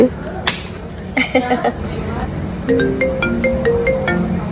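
A phone ringtone plays a repeating electronic melody, fairly close, with some clattering sounds and background voices.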